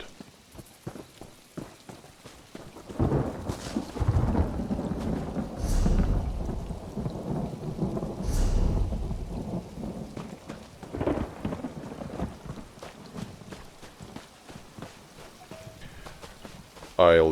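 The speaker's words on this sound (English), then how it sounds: "The rain has started." Rain pours steadily in Elder Scrolls Online's Gold Road chapter, with deep thunder rumbles swelling and fading over a continuous patter that grows heavier after a quieter start.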